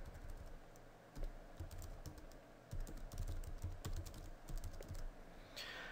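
Fingers tap a computer keyboard in quick, irregular bursts of crisp clicks, close and clear over a faint room hum, while a URL is entered in Flash authoring software.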